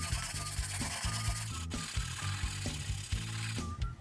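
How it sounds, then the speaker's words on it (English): Teak bookcase being rubbed down by hand along the grain to remove a deep mark, a steady close scraping and rubbing in repeated back-and-forth strokes with no talking. "I've pretty much rubbed it down and got that deep mark out."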